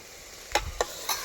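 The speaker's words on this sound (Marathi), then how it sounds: "आई फ्राय करत आहे मटणाला." Mutton with turmeric frying in a pan, stirred in three distinct scraping strokes over a low steady sizzle, close and fairly quiet.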